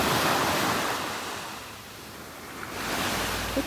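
Surf rolls steadily onto a Seychelles beach on a calm morning, a broad continuous wash of waves with light wind noise, swelling and easing over a few seconds with no voices.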